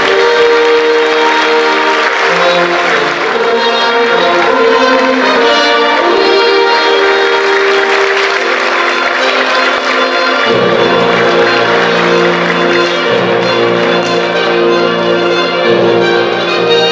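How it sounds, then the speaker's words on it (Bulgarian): Loud, sustained audience applause greeting the mayor of Kazanlak, Galina Stoyanova, at a town ceremony, mixed with tonal music or bells ringing steadily throughout. "Аплодисментите за кметът на община Казанлък, госпожа Галина Стоянова."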